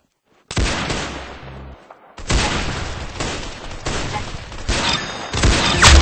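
Video game gunfire during a headshot kill: loud, dense bursts of shots that break off briefly, then resume in sustained volleys.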